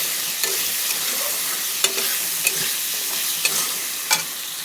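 Fish and raw mango sour curry stirred in a frying pan, a steady sizzle with a few distinct scrapes and clinks of the spoon against the pan.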